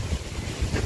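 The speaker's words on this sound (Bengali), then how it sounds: "এত বাতাস হচ্ছে তাও দুনিয়া ঠান্ডা হচ্ছে না" Strong wind buffets the microphone outdoors on a stormy rainy day, a loud, low, continuous rumbling roar with gusty swells.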